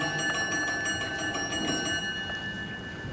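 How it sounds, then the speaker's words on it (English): A short electric bell rings in a lecture hall, a steady high metallic tone with harmonics sustained through the whole stretch, moderately loud over a murmuring room. "There will be another short bell, but I think I will keep on speaking during that"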